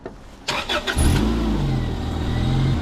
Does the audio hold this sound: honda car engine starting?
yes